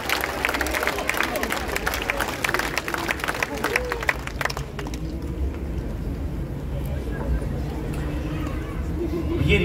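Concert audience applause at a tribute evening to a singer rings out loudly for the first half, then fades away into quieter room sound as a voice begins talking.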